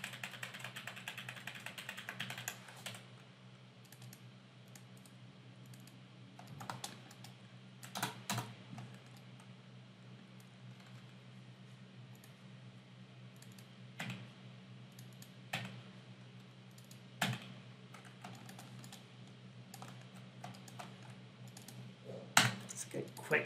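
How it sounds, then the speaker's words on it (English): Keys clack on a computer keyboard as the G key and arrow keys are tapped during 3D modelling work in Maya, scattered bursts of clicks and single taps over a steady low hum. "I'm just hitting the G key and the arrow keys."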